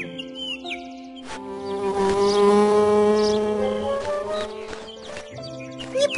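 A cartoon bee buzzes steadily while gathering nectar in a Luntik children's game, the drone swelling in the middle over bright tonal game music, with no talking.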